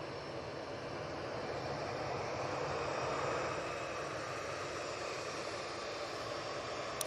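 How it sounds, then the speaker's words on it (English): A Ryanair Boeing 737-800 touches down at Manchester Airport, heard as a faint, distant, even roar of jet engines that holds steady throughout, with no voices. "Ryanair just touching down, 737-800."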